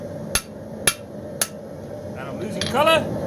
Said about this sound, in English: you'll notice I'm only hammering halfway up the steel